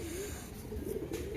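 Giribaj pigeons coo in a short, low burst close by, several birds murmuring together.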